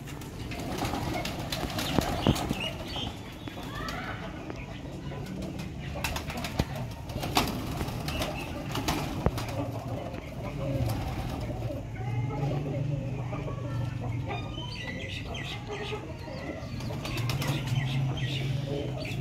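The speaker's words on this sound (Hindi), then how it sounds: "बहुत ही VIP और नायाब किस्म के टैडी कबूतरों का शौक करवाया जाएगा।" Teddy breed pigeons coo softly amid repeated wing flaps and rustling, set against a steady hum of background noise.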